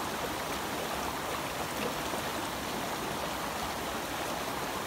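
A strong-flowing creek, its rushing water making a dense, steady broadband hiss, close and unbroken.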